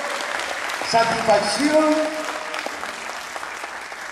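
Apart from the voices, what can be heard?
audience applause for a musician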